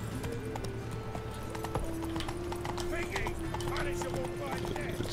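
Hooves of the horse Roach clip-clop steadily in The Witcher 3, set against a droning game soundtrack, with a brief whinny-like tone and speech-like sounds layered in.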